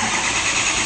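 A 6.0L diesel V8 in a 2004 Ford Excursion Limited 4WD turning over and catching, a dense, steady loud clatter sustained close up with no pause across the short stretch.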